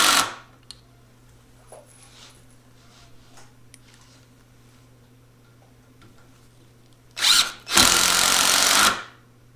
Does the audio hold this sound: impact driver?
yes